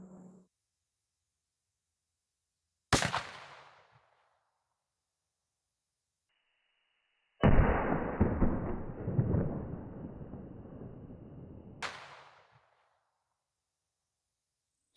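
A 28 gauge Brenneke 5/8 oz slug shotgun is fired into ballistic gel outdoors. A sharp, loud blast with a decaying tail is followed by a long, rumbling roar and another sharp report near the end.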